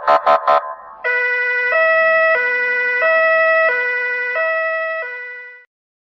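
A cartoon police car siren wails in a clean two-tone alternation, loud and electronic, after a few short honks, fading out at the end.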